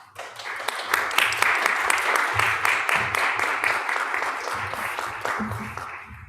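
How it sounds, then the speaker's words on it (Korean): Steady applause from a church congregation fills the room at a Korean Sunday worship service, welcoming a missionary to the pulpit, continuous and fairly close, with faint voices underneath. "우리 선교사님 나오실 때 우리 박수로 환영하겠습니다"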